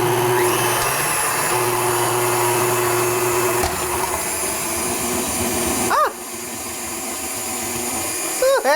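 A KitchenAid stand mixer motor whirs steadily with a Gvode slicer attachment cutting zucchini, a loud continuous drone that shifts pitch partway through, with a few short squeaks toward the end.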